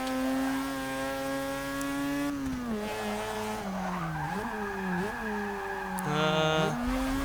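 A Ralph Lauren Polo Red car in Forza Motorsport 6 corners hard, with a loud sustained engine drone shifting pitch up and down and tires squealing through the turns, steady and close with no talking.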